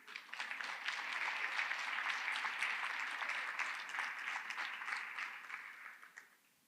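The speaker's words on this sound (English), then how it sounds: "Just take a minute, give yourselves a round of applause." Audience at a literacy coaching institute gathering clapping together, a dense, even burst of applause lasting several seconds at moderate distance before tapering off.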